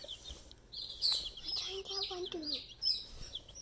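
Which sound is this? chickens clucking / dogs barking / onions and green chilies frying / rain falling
chickens clucking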